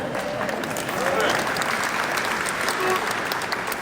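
Applause from a large crowd at a ribbon-cutting ceremony for a cancer center expansion, sustained, dense clapping throughout, with a voice speaking briefly over it.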